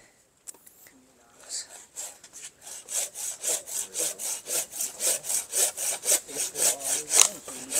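A hand saw rasps steadily through a wood branch, close and loud, with even back-and-forth strokes that quicken into a regular rhythm after a few taps.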